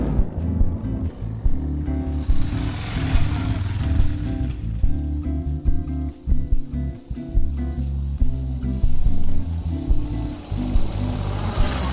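A heavy Yamaha 600XT trail motorcycle rides off-road, its engine droning and surging unevenly with throttle changes, close and loud, with rumbling bursts and gusty wind noise throughout.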